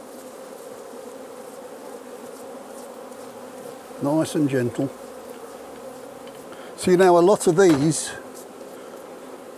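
Honey bees hum steadily around an open hive during queen rearing, a continuous near buzz throughout, with a person speaking briefly twice over it.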